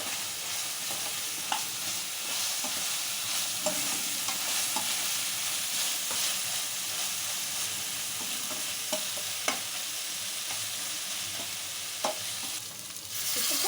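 Ginger garlic paste frying in oil for a fish curry, a steady dense sizzle with occasional stirring clicks and scrapes throughout, close and fairly loud, no voices.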